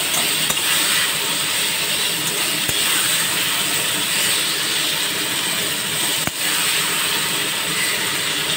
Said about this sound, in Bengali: এবার পটলগুলো ভালো করে ভেজে নেব